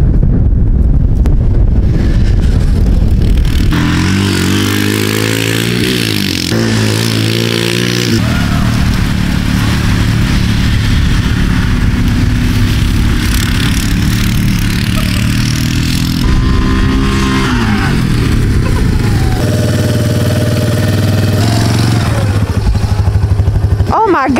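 An ATV quad is ridden outdoors, its engine droning and changing pitch as it speeds up and slows, with heavy wind buffeting the microphone and a voice briefly audible.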